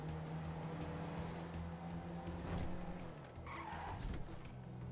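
Cars driving and skidding in the video game GTA Online, with a steady engine drone and a tire skid that rises mid-clip, along with background music.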